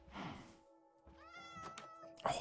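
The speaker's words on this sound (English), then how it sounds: "a cat just spawned right in front of us" A cat meows in Minecraft Bedrock Edition. Several short, clear meows sound close by, separated by brief pauses, over quiet game ambience.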